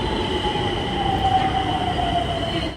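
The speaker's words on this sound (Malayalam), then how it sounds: "മെട്രോ വരികയാണ്." A metro train arrives at a station in Nagpur, a loud continuous rumble with rising wheel squeal and whine throughout, no voices.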